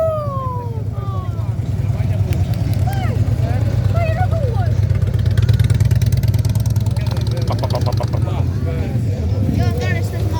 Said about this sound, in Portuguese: Eu adoro estas motos.